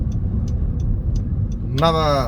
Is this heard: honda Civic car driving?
yes